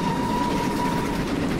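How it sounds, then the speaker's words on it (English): Steam train passing in Train Simulator 2016 with a Castle Class steam engine, a steady rumbling roll with a faint sustained whine, continuous and fairly close. "Oh, another train. I think it's a milk one again."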